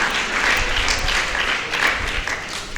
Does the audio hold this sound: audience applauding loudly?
yes